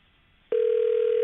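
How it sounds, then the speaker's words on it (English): A telephone tone on a call that goes unanswered starts abruptly after a moment of silence and holds as a single steady, clear electronic tone, with no voices. "Not picking up the phone now."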